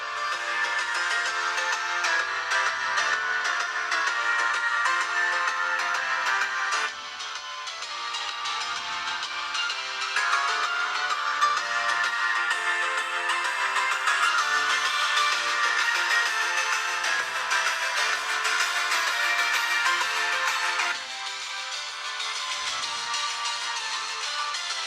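Sample audio plays from the speaker of a TCL 30 XL phone, a thin continuous music-like sound with no bass and a couple of slight level shifts, alone and without speech.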